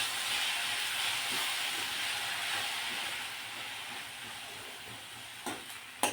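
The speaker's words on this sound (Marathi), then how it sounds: "आता ही चांगली मिक्स करून घेणार आहोत।" Karadai greens stirred in a hot pan give a steady broad sizzle and hiss, with a few faint scraping knocks near the end and no voices.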